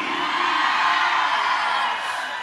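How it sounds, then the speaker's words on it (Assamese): Wedding guests ululate together in a sustained, high, wavering uruli chorus, loud and continuous from start to finish with no pauses. "এই হাত চাপৰি নহয় উৰুলি"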